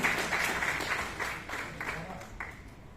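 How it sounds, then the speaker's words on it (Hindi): Audience applause at a Hindi poetry gathering, a steady wash of many hands clapping at moderate distance, tapering slightly over three seconds. "एक बार मां सरस्वती के नाम से जोरदार तालियों से आगाज करें"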